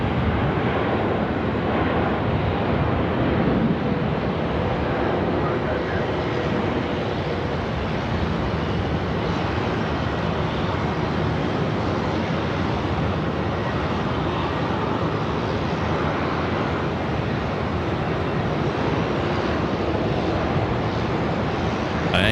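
A KC-135 tanker takes off at Sydney Airport, a loud, steady broadband jet roar with wind noise on the microphone, sustained without break across the whole stretch.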